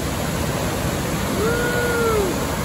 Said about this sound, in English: which is a waterfall right there